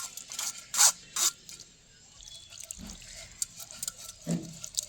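Homemade tomato sauce is pressed through a sieve, giving quiet, wet squelching and scraping in short separated bursts with pauses between strokes.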